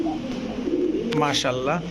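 Soft pigeon cooing, a short throaty bubbling call near the end, over a low background hum.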